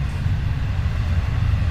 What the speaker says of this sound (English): So the train's going by.